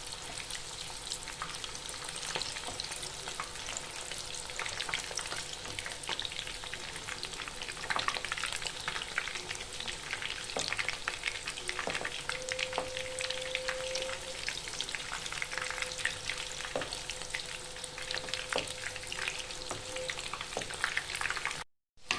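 Chicken pakora pieces fry in hot oil, a dense, even, close sizzle that runs unbroken for over twenty seconds with only an occasional faint tick above it.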